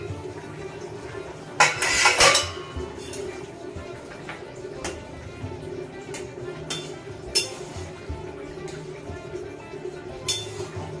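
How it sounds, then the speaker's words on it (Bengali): A lid comes off a pot of cooking stingray fish curry with a short, bright metallic clatter, followed by a few lighter clinks as a voice talks over the scene. "এখন হয়ে গেছে একটু ঢাকাটা খুলে করে দেখে নিই"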